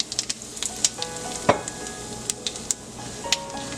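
Idli rava roasting with cashews and urad dal in a pan, a steady dry sizzle broken by quick scraping clicks of a spatula as it is stirred, close and fairly loud.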